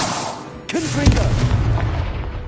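A Confringo spell goes off in Hogwarts Legacy, a sharp crack followed by a loud, booming blast that rumbles and fades over a couple of seconds.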